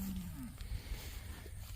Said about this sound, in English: She's a pretty big cow.